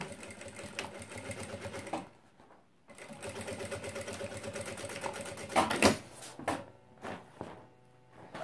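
A sewing machine stitches a seam with backstitching at both ends of the main fabric and the lining, a steady motor whir with brief pauses and a few clunks near the end, no one speaking.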